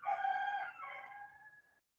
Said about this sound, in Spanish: un gallo que canta de por la zona